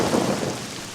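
Rain pours with rolling thunder as a radio-drama sound effect for an Indian government farm radio programme, a close, steady hiss of heavy rainfall under a low rumble, without speech.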